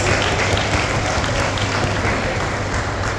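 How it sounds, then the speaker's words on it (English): A big audience at the Beyond The Label Fest 2025 event in Singapore breaks into loud, thick applause that continues evenly throughout, with no pauses or speech. "Give yourself a big round of applause."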